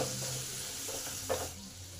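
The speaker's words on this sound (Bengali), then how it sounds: "নুন হলুদটাকে ভালো করে আলুর সঙ্গে মিশিয়ে দিই।" Potato pieces coated in salt and turmeric fry and get stirred in a pan for muri ghonto, a soft, faint sizzle with a few muffled scraping strokes, close by and with no talking.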